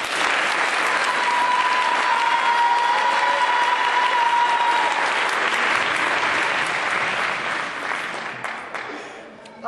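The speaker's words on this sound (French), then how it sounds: "applaudissez très fort Élodie" An audience applauds loudly for a young singer at a gospel concert, with dense sustained clapping near the microphone that stays strong for most of the stretch before easing slightly at the end, and a faint tone heard briefly within it.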